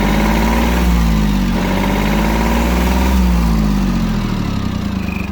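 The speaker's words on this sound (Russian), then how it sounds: "слышно, что мотор работает ровно" Steady, even idle of a Yanmar F-220 mini tractor's 22 hp three-cylinder diesel, loud and close, with a deep continuous thrum and slight wavering in pitch, no voices.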